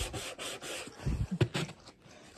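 Sanding sponges rub against a metal tin, giving a soft, quiet rasping scrape in short strokes that come close together.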